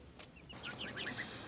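Chickens on a rooftop give short, soft clucks, several quick chirpy calls in a cluster, faint against low background noise.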